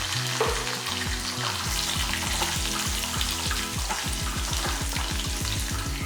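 Garlic with a pinch of salt sizzles and fries steadily in hot oil for a Tamil garlic kuzhambu, a loud continuous crackle with no talking.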